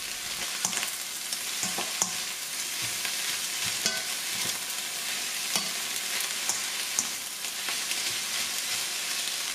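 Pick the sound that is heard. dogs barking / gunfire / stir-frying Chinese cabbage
stir-frying Chinese cabbage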